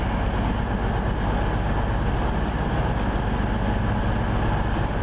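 A steady, rumbling diesel drone with a rhythmic low throb fills the cabin of a Turbostar unit 17512 on the service to Rugeley Trent Valley, continuous and even throughout.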